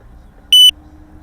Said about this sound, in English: So that beeping sound is just telling